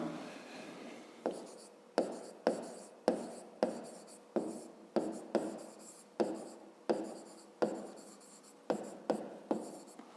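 A pencil or pen writes out a math answer on paper, a steady series of about fifteen sharp close strokes and scratches in quick rhythm, with no talking.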